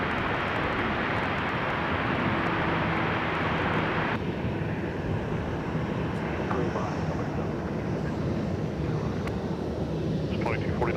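A heavy Airbus jet departs runway 30 left at MSP airport on a windy day, a loud continuous broadband engine roar that persists throughout, with radio chatter faintly under it.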